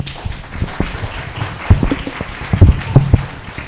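Audience at a Hoboken city council candidate debate claps after an opening statement, a short, moderately loud burst of scattered applause filling the room.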